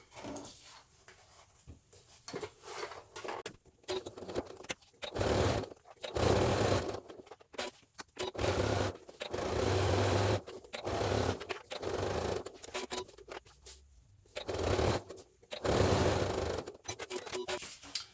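A sewing machine stitches the sides and bottom of a fabric volunteer pack bag, running in repeated bursts of motor whirr and needle clatter with short pauses between, close and fairly loud, with no talking.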